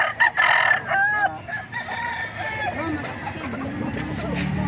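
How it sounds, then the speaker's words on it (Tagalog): A large rooster crows several times near and loud, with clucking fowl and a voice around it. "Malaking manok to man."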